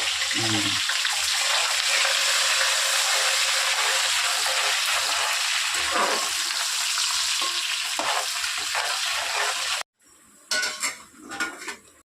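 Onions frying in hot oil for chicken biryani give a loud, steady sizzle with occasional stirring and pan scrapes. The sizzle cuts off abruptly near the end, followed by a brief clatter of utensils.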